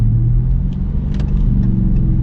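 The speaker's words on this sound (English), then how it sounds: "gear shifts on the downshifts are actually pretty quick" A Dodge Charger R/T V8 rumbles deep and loud as it downshifts through the paddle shifters, the engine note shifting and blipping over a constant road drone.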